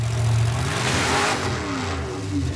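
A Roadkill project car engine revs hard during wheelie attempts, a loud mid-pitched roar that climbs and falls in pitch, close by with no talk over it.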